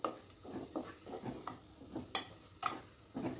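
A paste with green chillies is sautéed in a pan, giving a low sizzle under repeated rhythmic scraping of a spatula across the pan, about a dozen stirring strokes.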